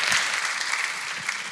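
Audience applause after a remark at a heterodox conversation event, a steady broadband wash of many hands clapping at moderate level that holds evenly for its whole short length.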